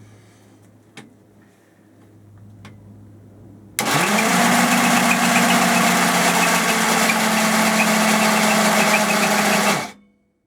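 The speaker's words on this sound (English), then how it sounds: "Just engage the starter." Starter motor spinning over a rebuilt AAC 250 Top Fuel motorcycle engine with no spark plugs fitted, a loud steady churning whir that kicks in abruptly after a few seconds of near quiet with faint clicks, runs evenly, then cuts off.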